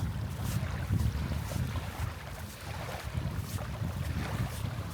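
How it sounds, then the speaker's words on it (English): Breezy wind blows across the mic at South Lido Beach around sunrise, a steady low rumble with gusty swells throughout and no voices. "More breezy today."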